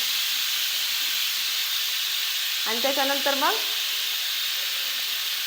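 A kitchen pressure cooker vents steam as a loud, steady hiss throughout, with someone speaking briefly over it partway through.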